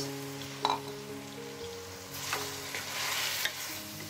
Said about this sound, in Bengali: চিংড়ি মাছটাকেও আমি মশলার সাথে ভালো করে মিক্স করে নিচ্ছি।